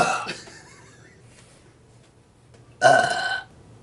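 A young woman at an acting audition for an energy drink commercial lets out a loud, raspy burp lasting about half a second, after a brief vocal sound at the start and a quiet pause.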